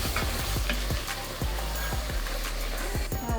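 Chopped vegetables cook down in a pan for a New Orleans-style shrimp creole, with a loud, continuous sizzle and crackle broken by repeated stirring scrapes.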